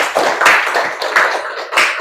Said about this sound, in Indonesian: Tepuk tangan untuk Amel dulu.